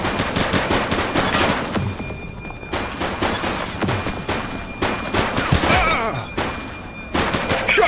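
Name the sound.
gunfire in shootout in video game The Precinct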